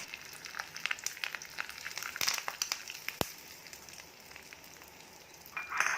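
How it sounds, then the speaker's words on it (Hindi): Hot tempering of red chili and curry leaves poured over bottle gourd curd curry gives quiet, scattered crackles and short sizzling bursts, fading to a soft hiss near the end. "और तड़का लौकी की सब्ज़ी के ऊपर डाल देंगे।"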